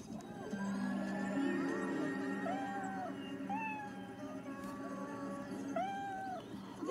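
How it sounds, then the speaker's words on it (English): Scared kitten stuck at the top of a castle tower, meowing several times in rising and falling cries over a steady background hum. "Your skittish kitty Scoodle scurried up to the tippy top of the tower, and now she's scared to skedaddle back down"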